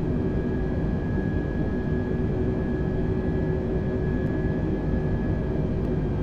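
A large airliner's engines in Microsoft Flight Simulator 2020 make a steady, even drone with a faint whine, holding constant the whole time with no talking.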